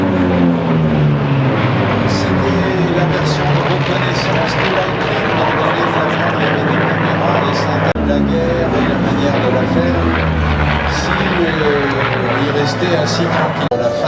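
A vintage propeller airplane flies over the La Ferté-Alais airshow, its engine drone rising and falling in pitch as it passes, loud and steady, with someone talking over it.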